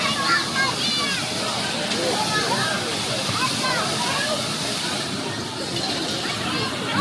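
Waterfall at a resort pool's water slide area pours in a steady, close rushing splash, with sloshing water and a voice talking over it.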